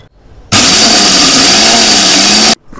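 An electric mixer grinder jar roars loudly for about two seconds as it grinds roasted garam masala spices into powder, starting and stopping abruptly, with quieter kitchen sounds before and after.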